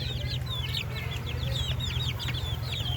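Darag native chickens on a Philippine farm keep up a busy chorus of soft clucks and short chirps, several birds calling close together over a low, steady background hum.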